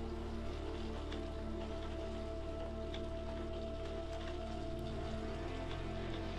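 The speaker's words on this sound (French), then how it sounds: "Comme vous le voyez, la pluie augmente un petit peu à ce moment-là." Rain falls steadily during a snowy bike ride along a smooth asphalt greenway in Bourges; a continuous soft hiss sits over a constant low hum, with no voices.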